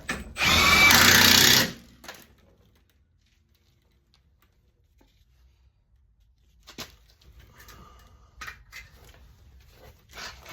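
A power tool zips a bottom bolt into place on a 2008 Mazda 3 during suspension work, giving one short loud burst followed by quiet clicks and handling noises.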